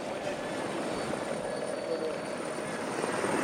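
A helicopter hovering over a Tour de France mountain descent gives a steady, droning rotor-and-engine hum that stays even throughout, with commentary-style voices faintly mixed in.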